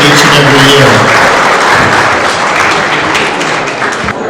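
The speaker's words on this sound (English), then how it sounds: "Let's give Mr. Billings a nice round of applause" Banquet audience at a track and field Hall of Fame induction dinner giving a round of applause, a loud, steady wash of clapping that tapers slightly toward the end.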